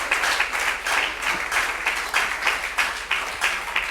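A church congregation applauds steadily, dense clapping with rhythmic swells, close and loud with no talking over it.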